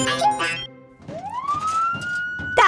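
A nee-naw siren tone rising and holding steady, moderately loud, following a brief burst of harmonic vocal-like sounds; likely a voice imitating a siren. From a vehicle repair cartoon.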